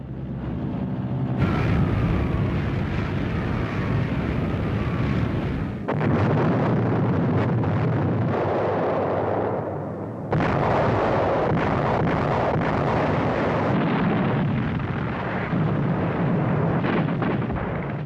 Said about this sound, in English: In desperation, the Allies bombed the historic monastery on the summit.